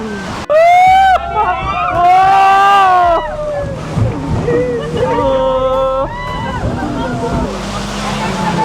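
Wind buffets the mic as a speedboat races across Halong Bay, slapping over waves, with people shouting and talking excitedly throughout.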